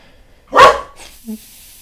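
A single sharp dog bark close by, followed by a short softer yip, with quiet surroundings.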